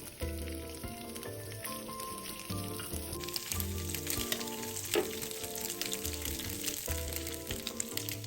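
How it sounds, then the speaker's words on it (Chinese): Dried anchovies, cleaned and patted dry, fry in hot oil over medium heat with a steady, dense sizzle and light crackle that runs the whole time, over soft background music. "将鱼仔一直油煎至表面微香，一点微金黄色，不要焦"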